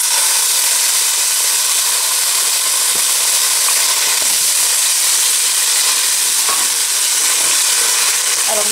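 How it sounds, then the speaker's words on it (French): Chopped shallot sizzles steadily in a hot pan, a loud, even, close-up frying hiss with faint crackles and no voices over it. "je rajoute de l'échalote hachée. Et je fais colorer tout ça jusqu'à ce que ça soit translucide"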